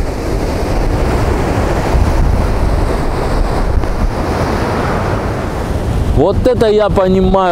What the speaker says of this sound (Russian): волны аж штормят